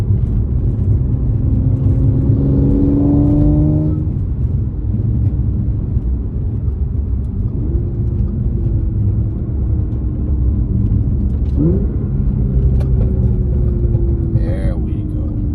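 A tuned Audi S5 (B8.5, stage 2+) engine rumbles steadily up close from inside the car, with rising and falling revs and scattered crackling pops from the exhaust over a loud, continuous drone.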